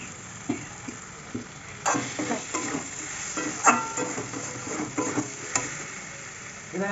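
Spiced flattened rice pulao (chirer polao) sizzles in a pan while being stirred, with repeated scraping strokes and soft clicks over steady frying, close and moderately loud, no talking.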